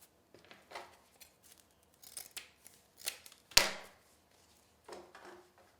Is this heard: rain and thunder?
no